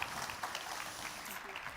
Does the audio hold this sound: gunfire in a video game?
no